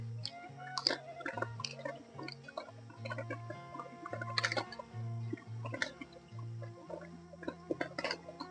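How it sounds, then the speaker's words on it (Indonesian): Close, wet chewing and biting on a spicy fried chicken head, with repeated squishy crunches and smacking bites in an uneven rhythm, alone without talk, rain implied in the setting. "makan kepala ayam mercon."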